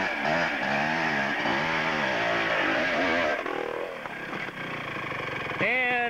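A motorcycle climbing a steep rutted dirt hill at a hill-climb event, its engine revving and surging in repeated rising pitches, loud and close, with someone talking over it.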